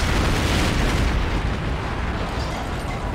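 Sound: explosions in the video game Metal Gear Solid

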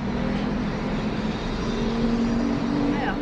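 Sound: cars passing by outside

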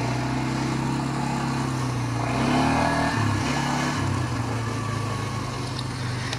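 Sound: motorcycle engine revving during a wheelie

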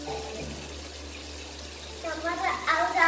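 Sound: water running from bathroom tap

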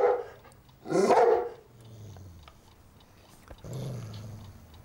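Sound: large dog barking and growling

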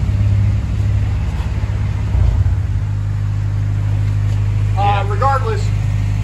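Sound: Honda D-series car engine running rough, possible bad idle valve

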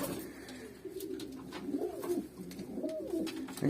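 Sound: pigeons cooing

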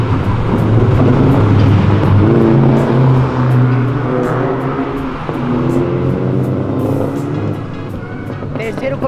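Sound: sports car downshifting and revving on an avenue

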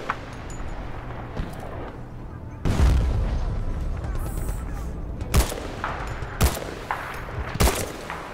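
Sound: gunfire in video game Battlefield Bad Company 2

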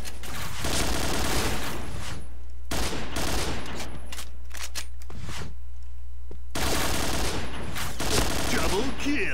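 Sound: gunfire in the video game Point Blank

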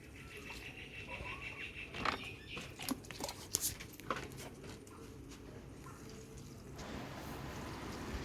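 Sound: pouring water onto newly planted okra plants

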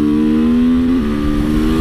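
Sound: KTM 450SM motorcycle engine revving

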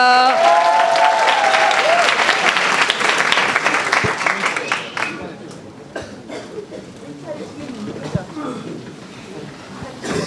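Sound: applause

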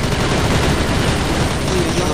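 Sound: gunfire in the Crossfire video game

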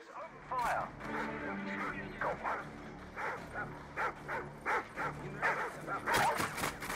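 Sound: dogs barking in video game Call of Duty MW2

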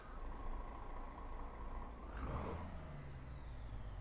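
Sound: truck engine in a driving video game

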